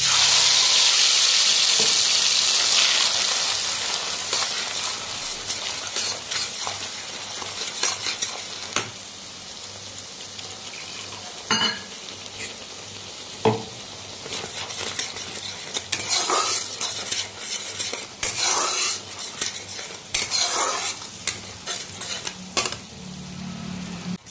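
A paste of poppy seed, mustard, cumin and green chili hits hot oil with silver pomfret, starting with a loud sizzle that fades, then scraping spatula strokes and clinks against the pan.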